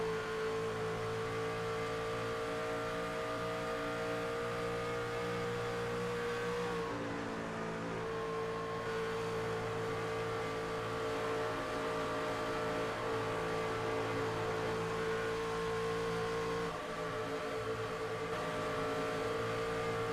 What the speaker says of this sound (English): You can hear him just working that throttle.